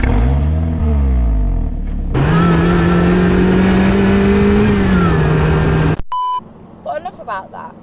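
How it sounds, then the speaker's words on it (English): A Lotus Elise S Cup with a supercharged Toyota 2ZR 1.8-litre inline-four revs loudly and sweeps up and down with a clear supercharger whine, close and prominent, then cuts abruptly to quieter idle with a beep and brief talk. "It sounds absolutely fantastic, and that supercharger whine is second to none."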